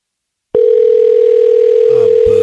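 A phone call tone plays as a steady loud electronic hum that starts abruptly and continues unbroken, with faint voices underneath near the end.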